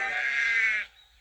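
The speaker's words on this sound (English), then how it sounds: "There were sheep on the tracks." A single sheep standing on railway tracks lets out one strained, wavering bleat that lasts under a second and then cuts off into near silence.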